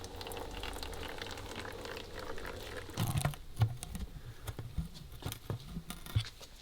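Water-contaminated oil draining out of a Corvette ZR1 engine: a faint steady trickle that breaks into quiet, irregular drips and pattering splashes.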